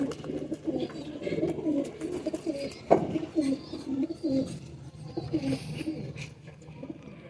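Patiali cross pigeons cooing in a loft, soft repeated rolling coos near and low, with a brief knock midway and faint background noise.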